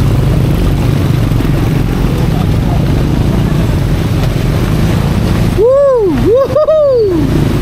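An off-road dirt bike plows through water, giving a continuous rushing churn of engine and splashing; near the end a voice lets out a rising and falling whoop over the noise.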